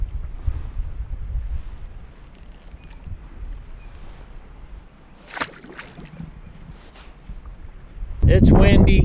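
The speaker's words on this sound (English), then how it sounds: "It's windy." Wind gusts buffet the microphone on a boat while fishing for smallmouth bass on a lake, a steady rushing roar with brief louder blasts near the end.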